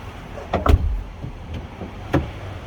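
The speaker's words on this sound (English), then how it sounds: "Just make sure the door opens and closes." A Chevy Suburban door is handled nearby: a solid thump as it shuts, then a couple of lighter clunks and latch clicks against a quiet garage background, with no talking.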